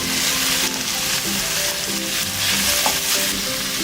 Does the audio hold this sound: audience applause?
no